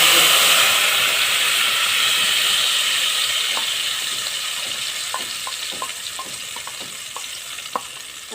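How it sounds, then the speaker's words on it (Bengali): Green banana peel paste fries in a pan with garlic, green chili, turmeric, salt and sugar, giving a steady close sizzling hiss with scattered sharp crackles and spoon scrapes as it is stirred. "এবার এটাকে দিয়ে কষিয়ে নেবে একদম ভালো করে"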